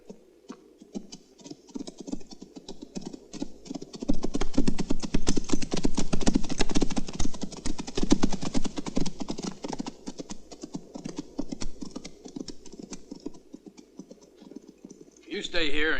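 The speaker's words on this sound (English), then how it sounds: "The horses ran off toward the hills." Horses galloping by moonlight in the western film Four Gunmen of the Holy Trinity, a dense patter of hoofbeats that swells in the middle and then thins out, heard under a score, with a voice near the end.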